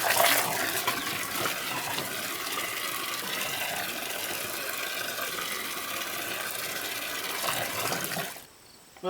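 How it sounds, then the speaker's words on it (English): Water pours steadily into a garden planter fountain pot, a continuous rushing, splashing gush that stays close and even for about eight seconds before cutting off abruptly. "So what I'm going to do now is I'm going to put water in it"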